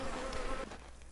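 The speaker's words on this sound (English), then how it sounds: "Speaking of bugs, those are my beehives." Bees buzzing around beehives on a farm in the Farmer's Dynasty video game, a dense, steady droning hum close by that dips slightly partway through, with no speech.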